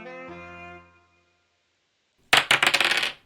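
Dice rolling in the digital OOF DAH board game, a rapid burst of bright clattering rattles after a short fading musical tone and a moment of silence, clean and close.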